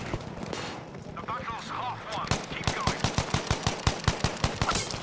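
Rapid automatic gunfire in the video game Battlefield V, a steady burst of loud evenly spaced shots in the second half, with battle noise and talk before it.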